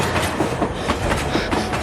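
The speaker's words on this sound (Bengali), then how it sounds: "দুর্নিমার গতিতে আমার দিকে ধেয়ে আসছে একটা মেল ট্রেন" A mail train rolls past close by, a heavy rumble with a rapid clickety-clack of wheels over rail joints. It is steady and loud, with no voices.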